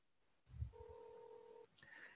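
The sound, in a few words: telephone call dialing and ringing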